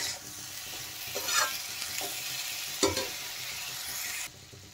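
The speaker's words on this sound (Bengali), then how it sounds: "তো এখন দেখেন ভালোভাবে নেড়ে চেড়ে মিশিয়ে দেবো" A spoon stirs chili powder into amra pickle in a hot pan as the sugar melts, giving a close, steady sizzle with a few scraping bursts and no voices.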